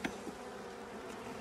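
Swarm of bees buzzing steadily around a hive, a dense continuous hum close by with no voices.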